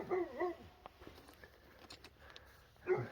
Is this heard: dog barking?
yes